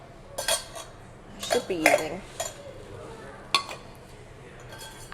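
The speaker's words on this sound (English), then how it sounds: "Gonna go ahead and scoop out some of the veggies and noodles" A metal spoon clinks against a pot and dishes while vegetables and noodles are scooped from a hot pot, a few sharp scattered taps, close, with a person talking briefly.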